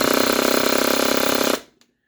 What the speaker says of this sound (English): Starts up your engine perfectly fine.